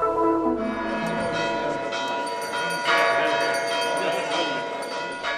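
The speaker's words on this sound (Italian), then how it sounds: "Suonano a festa le campane" Church bells ring festively in Bethlehem's Manger Square, several bells clanging and overlapping in a dense, sustained peal that fills the whole stretch, loud and close, with no voices over them.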